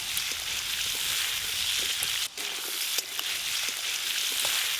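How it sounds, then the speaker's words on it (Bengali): Mixed vegetables with beetroot frying in a pan, a steady close sizzle with faint crackles throughout and a brief dip partway. "সবজিগুলো তো ভাজা ভাজা হয়ে গেল"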